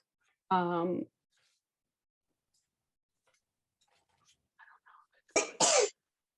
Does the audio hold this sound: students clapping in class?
no